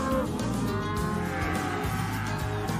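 Cattle low and moo during a roundup on a ranch where cows are being sorted from calves, a steady dense chorus of overlapping bellows with continuous herd noise and rumble throughout.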